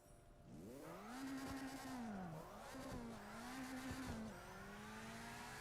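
A car engine in the video game CarX Drift Racing revs and drones in rising and falling pitch sweeps with tire squeal while drifting, a steady synthetic roar that surges several times.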